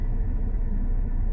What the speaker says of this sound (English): I hope you guys can hear me because the AC is on